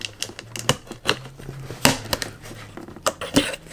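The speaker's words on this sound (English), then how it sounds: "let me just go ahead and cut this thing open" A knife slices open a cardboard shipping box holding a Hot Wheels case. Close, sharp cuts and scrapes come in irregular bursts, with occasional louder snaps of tape and card.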